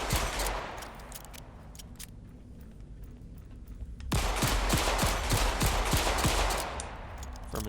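A machine pistol fires in the game Volcanoids. A short rapid burst comes first, then a pause, then a longer run of loud, close automatic shots in steady rhythm.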